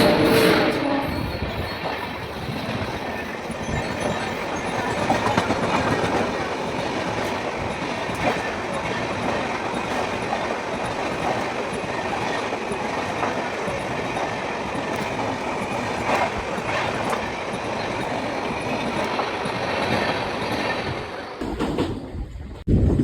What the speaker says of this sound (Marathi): ट्रेन आता फायनली पोचली आहे आमच्या तिसरा स्टॉप खारगावला